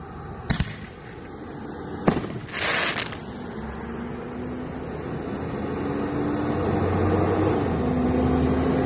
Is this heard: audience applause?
no